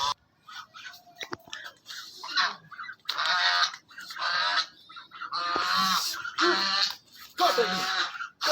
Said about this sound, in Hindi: ये बत्तख है, ये बहुत जालिम, ये जालिम बत्तख है।